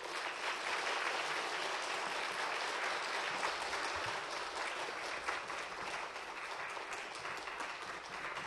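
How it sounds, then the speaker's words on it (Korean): A church congregation at a Korean family worship service applauds with steady, sustained clapping that fills the room, loud and even throughout, with no talk over it. "우리 나오실 때 큰 박수 한번 하겠습니다"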